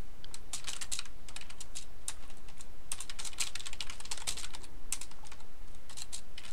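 Rapid, uneven clatter of keys on a computer keyboard, close and fairly quiet, with irregular bursts of keystrokes and short pauses and no voices.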